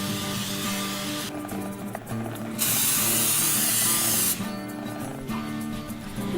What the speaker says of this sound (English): take a 9x13 pan and spray it with cooking spray